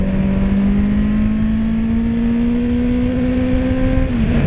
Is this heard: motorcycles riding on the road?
yes